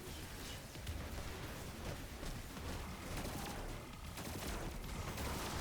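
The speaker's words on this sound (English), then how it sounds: "the origin trait of the fusion rifle coming in handy there with that light means that I was able to two-shot it instead of three" Fusion rifle fire and combat in the game Destiny 2 make a dense, continuous stretch of crackling, booming gunfire and blasts at moderate loudness, with no speech.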